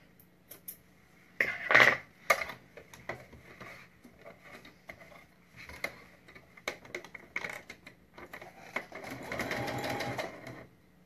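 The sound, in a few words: sewing machine stitching a zip on a pencil case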